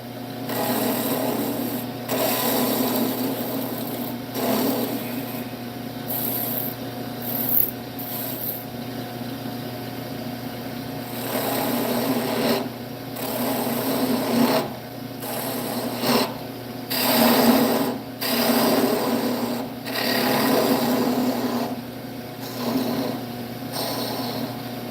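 A roughing gouge cuts wood on a spinning lathe with a steady whirring hum, broken by repeated scraping and rasping bursts as the tool meets the turning blank, close and moderately loud.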